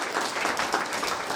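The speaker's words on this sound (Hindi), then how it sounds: "एक बार जोर से ताली बजाइए" An audience gathered after Mass applauds with steady, dense clapping that stays loud and even throughout, with no pauses.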